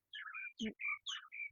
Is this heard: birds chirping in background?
yes